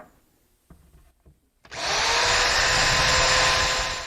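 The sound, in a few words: power drill drilling into wood cleat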